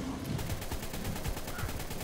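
Rapid, dense explosive firing from a rocket launcher in the video game Ark: Survival Evolved, a continuous loud barrage of booming blasts over two seconds.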